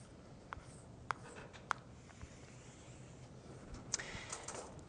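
At a mathematics lecture, a diagram is drawn on a board with faint, sparse taps and short scratches against a quiet room, with no speech.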